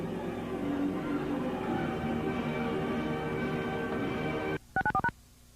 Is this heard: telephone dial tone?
yes